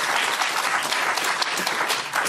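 Studio audience applause at a Question Time debate in Bishop's Stortford, a steady, dense clapping that holds at full level for a couple of seconds without a break.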